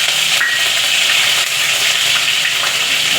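Green chillies and mustard seeds sizzle in hot oil for a dhokla tempering, a steady, loud, even crackling hiss that runs the whole time with no voices.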